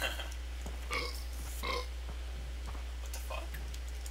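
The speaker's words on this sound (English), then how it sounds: "He's burping a lot." Several burps from an enemy in the shooter Far Cry 3, short guttural bursts repeating over a few seconds above a steady low hum, fairly faint in the mix.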